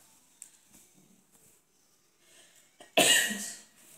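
A person with a cold gives one sharp, close cough after several seconds of faint breathing and quiet shuffling.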